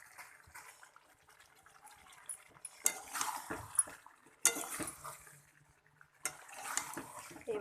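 A spatula stirs and scrapes beef and taro in a pot, producing faint, intermittent bursts of scraping and clatter with quieter sizzling between them.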